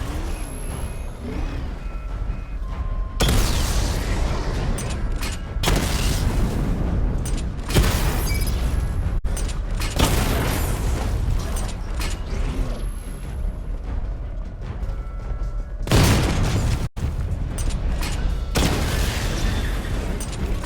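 A missile barrage in the video game Batman: Arkham Knight unleashes loud, heavy explosions, several booming blasts arriving in clusters over a thick, sustained rumble with brief gaps between volleys.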